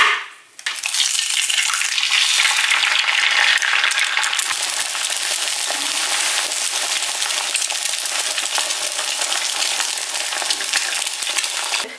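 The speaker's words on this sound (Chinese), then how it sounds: "在一旁煎个蛋" Egg frying in a pan while a sandwich toasts alongside at home, giving a steady, close hiss and crackle of sizzling oil that runs unbroken after a brief quiet opening.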